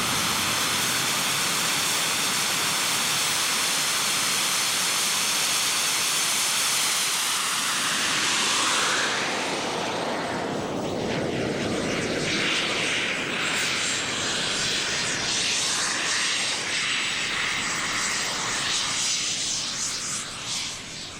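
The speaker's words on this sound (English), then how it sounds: "We'll taxi out now onto the end of the runway." An RC model jet aircraft taxis toward the end of a runway with a loud, steady turbine whine and hiss that shifts in tone partway through, heard alone and close.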